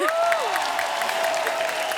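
An audience claps for a singer on a comedy talk show, a steady close wash of applause under a host's voice speaking over it.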